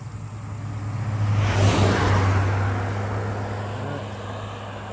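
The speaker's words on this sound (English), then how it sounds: "A car coming." A single car passes close by on a road beside a bridge, its engine and tire noise swelling to a peak near the middle and then fading away, over a steady low hum and outdoor wind.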